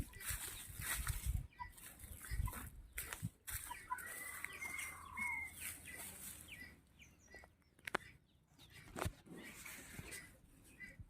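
Sick chickens cluck softly near the microphone, with scattered low clucks, a brief flap of wings, and faint outdoor background noise.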